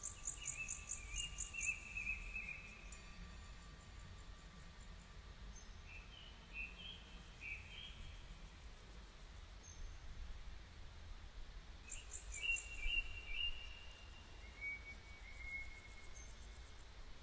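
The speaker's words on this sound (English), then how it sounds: "I'd have birds singing rather than you." Birdsong chirps and whistles in two bursts near the start and again around two-thirds through, faint and somewhat distant over a steady insect and cricket drone with no talking.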